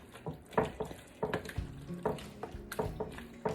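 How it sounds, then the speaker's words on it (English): Octopus salad dressed with mayonnaise being stirred in a bowl, a series of soft wet squelching and scraping strokes at an uneven rhythm, close and fairly quiet. "I'll stir it up really good"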